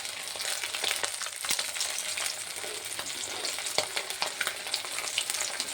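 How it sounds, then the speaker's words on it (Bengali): Fennel seeds crackle and sizzle in very hot oil in a wok after fish has been fried, a dense continuous frying hiss with sharp pops, close and steady, no talk. "মৌরি ফোড়ন দিলাম"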